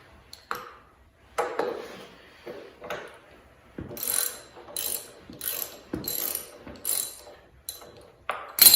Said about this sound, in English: Throw the ratchet on here and loosen it with that.